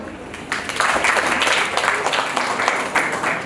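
Wedding audience applauding, a crowd of hands clapping in a continuous dense wash that swells after the first half-second and holds steady, moderately loud.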